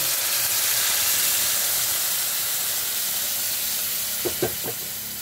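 Pork with fried garlic and oyster sauce sizzles in a pan as water is added, giving a loud, steady frying hiss throughout, with a few soft clunks of the pan or utensil near the end.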